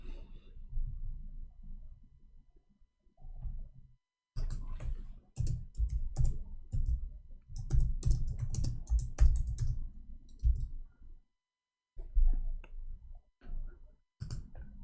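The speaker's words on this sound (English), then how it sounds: "Okay, I will type 2021." Computer keyboard typing in a run of fast, close clicks, with short pauses between bursts and a longer gap near the end, with no voice over it.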